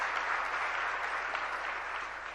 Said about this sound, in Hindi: एक बार तालियां बजाइएगा।